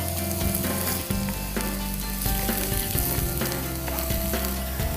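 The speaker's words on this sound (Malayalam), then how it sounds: "ഒന്ന് നന്നായിട്ട് വഴറ്റണം. എന്നാലേ ഉള്ളിന്റെ ആ ഒരു മണം മണം പോകും." Onions sauté in a pan during a cookery show, a loud, continuous frying sizzle with scraping stir strokes and clinks, steady throughout and close up, with no talking.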